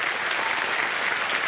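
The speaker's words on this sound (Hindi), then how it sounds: "तालियां बजती रहें इनके लिए।" A studio audience on the quiz show Kaun Banega Crorepati keeps up steady, thick applause for a contestant family. The clapping is loud and even from start to finish, with no one speaking.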